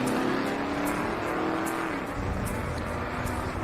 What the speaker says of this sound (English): Studebaker Commander comes up next, right-hand side, and the 1948 GMC pickup truck left side.